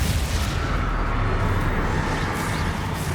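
The Confringo fire spell in Hogwarts Legacy detonates as a loud, dense explosive rumble, a heavy roaring blast that fills the whole few seconds.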